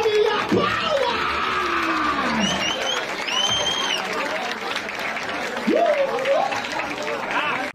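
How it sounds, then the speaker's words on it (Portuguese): An audience at a rap battle breaks into loud, continuous clapping with scattered shouts, screams and cheers rising over the crowd noise. "Palmas, família, palmas!"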